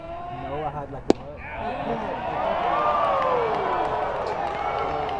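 Baseball stadium crowd at an Arkansas vs. Alabama game swelling after a home run, a sharp crack near the start followed by a broad, building roar of cheering that holds loud and sustained to the end.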